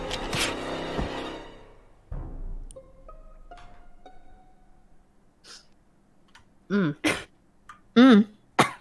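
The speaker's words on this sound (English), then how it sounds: "Oh, who's coughing?" A person coughs and clears their throat during an online game of Among Us, with a few short, loud bursts near the end after quieter noises.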